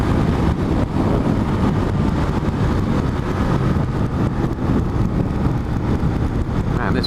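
A motorcycle rides along Mulholland Highway through California, its engine blending with heavy wind rush into one steady, loud, unbroken roar with no talking.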